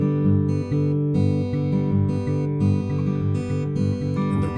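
Acoustic guitar fingerpicking in a pinch pattern with the last eighth note left out, bass and treble strings plucked together in a steady bouncing rhythm, played close and alone without talking.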